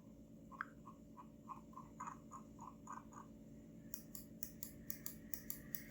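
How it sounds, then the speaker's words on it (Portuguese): An Anker ergonomic computer mouse is clicked in a quick, even series of sharp, close button clicks, after a run of softer, lighter taps in a quiet room. "não precisa fazer tanta força assim pra clicar. Ouçam o som."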